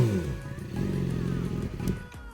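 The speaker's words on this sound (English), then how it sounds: "I'll give you guys a few revs." A flash-tuned motorcycle engine is blipped close by, its pitch rising and falling through a couple of quick revs before settling back down.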